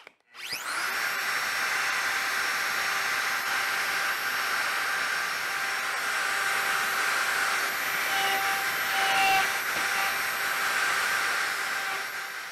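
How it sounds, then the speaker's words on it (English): Router fitted with a downcut bit cutting into a wooden shutter workpiece: a loud, steady high-pitched whine that spins up sharply and holds unbroken for the whole stretch, close and alone. "I'm using a downcut bit, but it's set to the depth to get the cut that I need in the workpiece."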